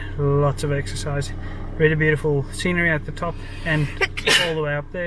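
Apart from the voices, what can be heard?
sneeze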